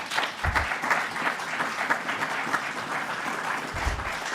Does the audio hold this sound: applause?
yes